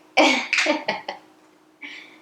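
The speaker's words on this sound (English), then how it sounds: "Sounded like a very dry cough to me." Several dry, harsh coughs in a quick burst, close and loud, followed by a pause and one softer final cough.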